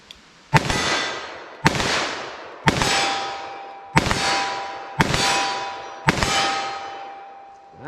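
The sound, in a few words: 357 Magnum revolver shots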